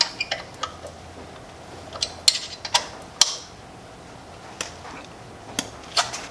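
A hollow chisel mortiser's arm lifting the chisel back up out of the workpiece gives sparse, quiet metallic clicks and ticks at uneven intervals in a quiet workshop.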